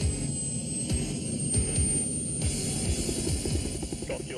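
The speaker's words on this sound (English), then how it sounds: "your chopper's waiting for you" A helicopter idles on the ground before takeoff, its rotor chopping in a steady, loud rhythm over a continuous engine whine.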